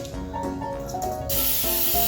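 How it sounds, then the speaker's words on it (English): A steady hiss of no-stick baking spray with flour from an aerosol can, close and loud, in short bursts growing into one longer continuous spray. "no-stick baking spray with flour"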